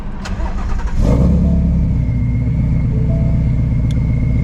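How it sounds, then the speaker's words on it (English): A supercharged Shelby GT350 engine cranks and catches about a second in, then settles into a steady, loud, close rumbling idle, heard alone. "I'm gonna turn the car on so y'all can actually see."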